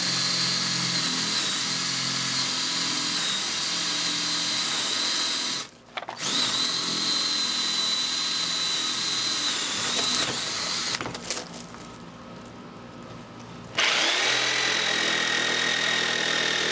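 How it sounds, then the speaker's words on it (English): A power drill with a 1/2-inch bit bores a hole through wood for a model railroad helix, whining loud and steady, with two short pauses where the motor stops before spinning up again. "I'm going to just take a 1/2-inch drill bit and drill a hole"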